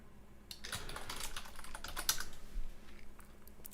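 Rapid, uneven clatter of keys on a computer keyboard during game development work, close and fairly quiet, with irregular bursts of keystrokes and no voices.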